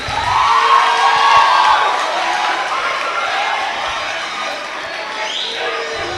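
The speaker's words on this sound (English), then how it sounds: "Let's clap for them again." A crowd at a school presidential debate claps and cheers, with whoops and excited shouts rising loudest early on before settling into sustained noisy applause.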